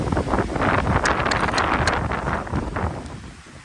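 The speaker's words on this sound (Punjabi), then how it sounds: "ਇੰਨੀ ਤੇਜ਼ ਹਵਾ ਚੱਲ ਰਹੀ ਹੈ ਇਸ ਟਾਈਮ" Strong wind over a lake roars steadily and buffets the microphone, with gusty rustling surges throughout.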